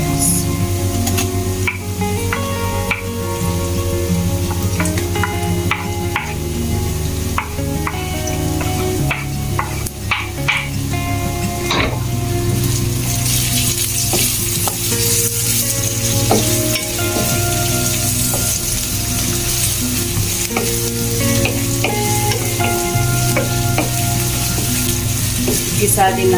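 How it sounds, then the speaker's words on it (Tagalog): Ginger and then onion sautéing in a hot pan, a steady broadband sizzle running throughout with occasional utensil scrapes and clinks, busy and fairly loud, with faint music or voice tones beneath. "Gisa din natin ang sibuyas hanggang siya ay mabango din para mabango ang ating ulam."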